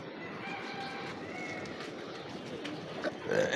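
A pigeon or dove cooing nearby, soft repeated coos over a steady outdoor background, with no talk.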